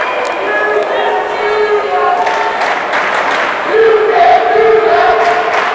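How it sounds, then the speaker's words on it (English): Basketball game crowd noise from a high school gym, a steady murmur of spectators with scattered shouts and cheers that swells near the end, heard close through headset microphones. "with this headsets, we get the crowd noise picking that up"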